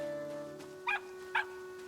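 A dog in the video game Luma Island barks twice at a steady pace, sensing nearby treasure, two short, fairly clear yips over a quiet game music hum.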